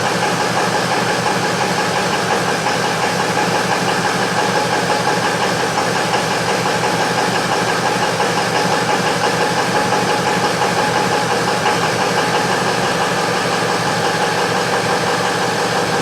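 A 2004 Ford F-350 with a 6.0L engine idles rough, a loud, steady mechanical clatter running unbroken throughout at close range.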